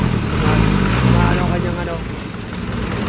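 A motorcycle engine idles after its idle stopper has been adjusted, a steady low rumble that stays fairly loud throughout with a voice talking over it.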